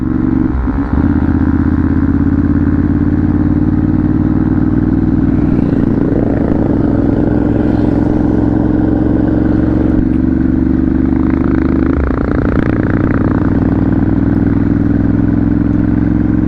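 A Ducati Monster 796 two-cylinder motorcycle idles close by, a loud steady lumpy rumble with a mechanical clatter and brief blips of throttle, without any speech.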